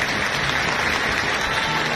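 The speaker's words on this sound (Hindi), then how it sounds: "एक बार जोरदार सभी अपने लिए जोरदार ताली बजाएं" A large crowd at an organized gathering in Delhi claps vigorously, a thick steady wall of applause that fills the whole short stretch.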